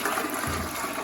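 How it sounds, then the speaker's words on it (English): A toilet flushes on its own, a steady, loud rush of gushing water that continues without a break. "Your toilet automatically flushes when it has too much water in it."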